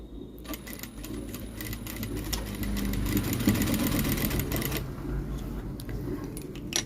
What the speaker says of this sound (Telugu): స్లోగా కుట్టుకుంటూ అంటే ఈ క్లాత్ అక్కడికి వెళ్ళే వరకు దారం లూజ్ రాకుండా పట్టుకోవాలి